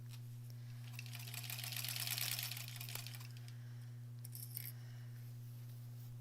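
A sewing machine stitches sashing onto a granny squares quilt, a faint rapid whirring burst that swells and fades over a steady low hum, with a brief second run near the end.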